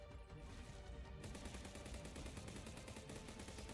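Minigun fire in the video game Zombotron, a dense, continuous rapid-fire stream of gunshots that runs loud and unbroken throughout, with fast regular pulses and no voices.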